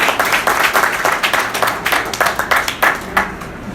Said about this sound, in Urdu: ہم ان کے لیے ایک زبردست تالیاں بجاتے ہیں